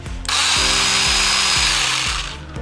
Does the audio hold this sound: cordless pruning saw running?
yes